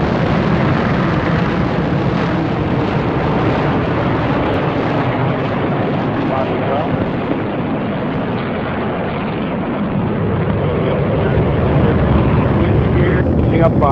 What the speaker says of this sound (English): We have ignition and liftoff of a Delta II rocket carrying deep impact.